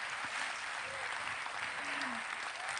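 Studio audience applauding guest speakers at a live post-debate broadcast, a steady dense wash of clapping holding at even loudness throughout.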